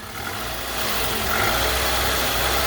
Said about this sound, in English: The engine sounds flawless.